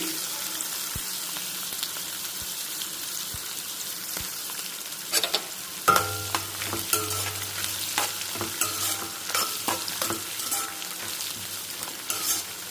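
Onion and green chilli pieces for a gongura dish dropped into hot tempering oil, a constant hiss of frying that thickens into louder crackling and spoon stirring midway, close up with no talking.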